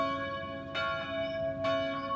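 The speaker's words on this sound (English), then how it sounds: "Listen carefully for the fate bell. It peals the sound of the light." Fate bell in the Papa Sangre video game, a clear ringing peal with two strikes about a second apart, each leaving a sustained tonal hum over a steady harmonic drone, alone without talk.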